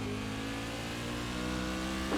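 A Silver Crown race car in a racing sim at Martinsville drones steadily as it comes up to speed, its engine tone held and slightly rising, loud and close, with no voices.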